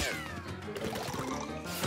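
A cartoon zombie cat meows amid a loud, busy animated soundtrack, its call lasting about two seconds over dense music and effects.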